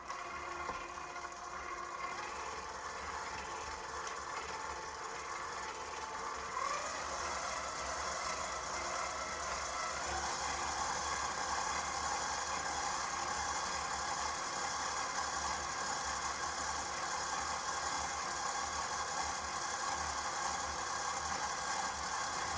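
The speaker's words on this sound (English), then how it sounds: "we're going to put the bananas in the mixer with the whisk attachment and whisk them until they are as smooth as they" An electric mixer with a whisk attachment whirs continuously as it whisks bananas, a steady close mechanical hum that holds for the whole stretch and grows slightly denser partway through, with no talk.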